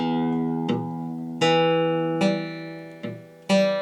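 Acoustic guitar strummed as one full chord, then each string plucked singly in turn, six separate ringing notes decaying slowly, close and clear with no talking.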